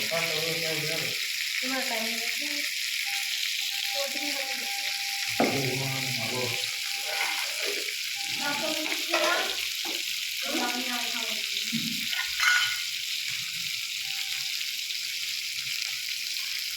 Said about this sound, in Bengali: ফুলকপিটা ছেড়ে দিল তেলে